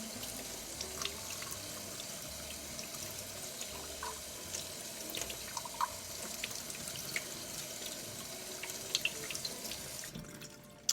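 Tap water runs steadily into a kitchen sink while a cup is rinsed of soap, with small splashes and clinks over the flow, and the stream cuts off abruptly at the end.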